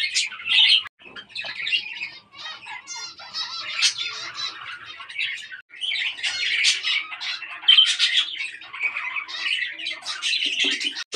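Finches in a breeding aviary call constantly in bright, overlapping chirps and squawks, with many birds close together in busy bursts and short gaps.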